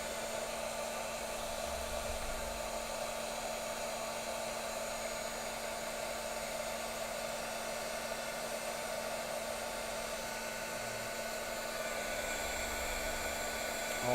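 A heat tool blows hot air over stamping foam, a steady, even whooshing hum with a faint tonal whine that runs unchanged for the whole stretch, close and alone.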